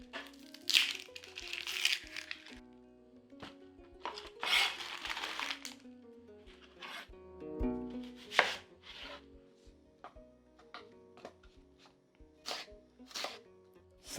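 A knife slices an onion on a cutting board: many crisp irregular chops and taps, close and clear, with the occasional clatter of the board, and no talking.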